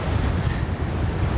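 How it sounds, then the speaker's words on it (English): Strong wind buffets the microphone on a coastal clifftop in Scotland, a continuous low roaring rumble with surf noise beneath, loud and unbroken with no voices. "So my hat's just blown off, that's how windy it is."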